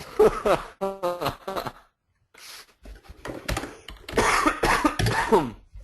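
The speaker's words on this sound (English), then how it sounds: "I'm actually coughing my lung out" A few harsh bursts of coughing and throat clearing come close up, broken by short pauses and some brief talk.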